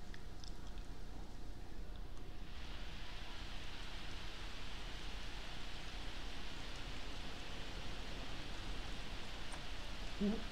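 Steady rain falls in The Sims 4, a continuous broadband hiss that thickens after the first couple of seconds and holds evenly to the end, with no voices.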